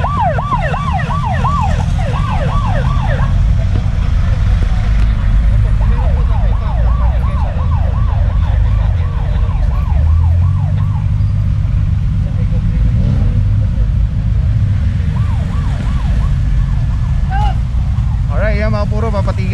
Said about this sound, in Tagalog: Ayan, meron pa dito ambulansya.